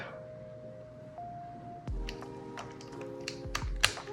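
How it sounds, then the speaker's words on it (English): Clicky keystrokes on a mechanical keyboard, a quick irregular burst of taps close to the mic with a steady hum underneath. "I'm gonna put this and just do a typing test."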